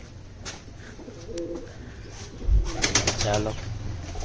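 Pigeons cooing near a cattle shed, soft low coos repeating under steady outdoor background noise, with a brief thump and a burst of wing flapping midway; someone speaks briefly.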